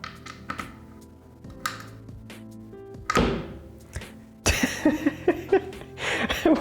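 Power switch on an Ortur LaserMaster 3 laser engraver being operated, giving a few close, sharp clicks and thunks with a louder switching burst partway through, no talk over it.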